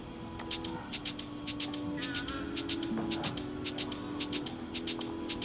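An afrobeat shaker loop programmed in FL Studio, with bright, crisp shaker hits in a quick, syncopated repeating pattern over a soft sustained musical bed, steady and even throughout with no talking.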